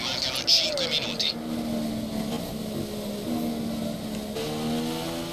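Race car engine in a racing video game revving and accelerating, a steady tonal drone climbing in pitch under commentary voices, with brief higher whine early on.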